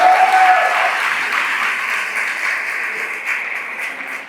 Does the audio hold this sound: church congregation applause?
yes